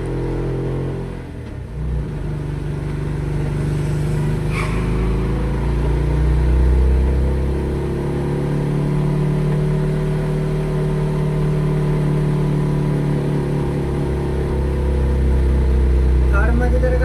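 A car engine strains up the steep Tamhini Ghat road in low gear, a loud, steady, rising drone that swells and dips with the climb while someone talks over it.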